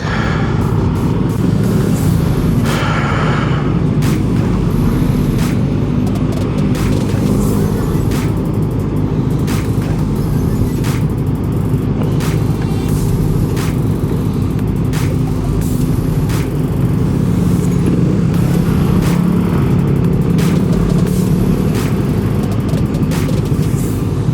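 Road traffic rolls past a moving car in a loud, continuous roadway wash, with buses and trucks in the mix, a hiss like an air brake and scattered clicks over the steady rumble.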